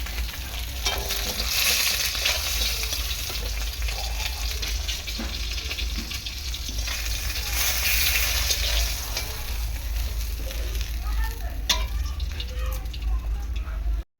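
Fish fries in a pan with a continuous, even sizzle and spatter, and occasional utensil clicks can be heard as the pieces are turned.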